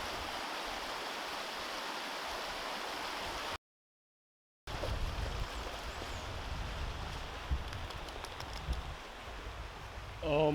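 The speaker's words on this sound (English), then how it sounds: "Oh my god, and it's raining." Steady rain while wild camping, a broad even hiss that fills the whole stretch apart from one brief dropout, with faint patters and small knocks close by and no talk.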